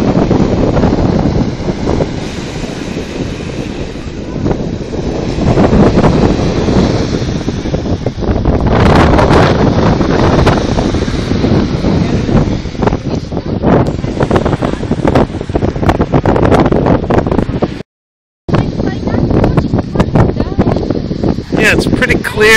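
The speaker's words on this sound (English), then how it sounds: "you got all these waves stirring things up" Waves wash onto a Black Sea beach at Pomorie, Bulgaria, under heavy wind buffeting the microphone, a loud continuous roar with a brief dropout near the end.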